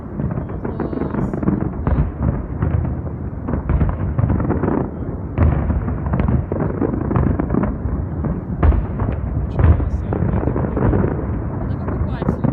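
City Day fireworks salute bursting outdoors, a dense rumbling barrage of booms and crackles going on continuously, with voices talking over the noise.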